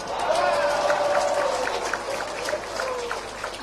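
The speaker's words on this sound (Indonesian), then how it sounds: "Nah, itu baru tepuk tangan" An audience at a volunteers' national working meeting breaks into sustained applause, a dense crowd of clapping that holds steady and then eases slightly, with a speaker's voice running over it.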